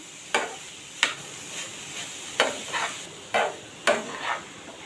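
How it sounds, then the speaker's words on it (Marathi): A jaggery and coconut filling stirred in a pan for ukadiche modak, with distinct scraping strokes at an irregular rhythm over a soft sizzle. "गूळ आणि खोबरा मिक्स करून घ्यायचं आहे आपल्याला सारण बनवायचं आहे"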